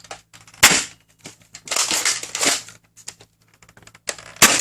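Dart Zone MAX foam darts strike a chronograph and bounce, giving a handful of sharp, close, dry smacks and clicks spread irregularly over a few seconds.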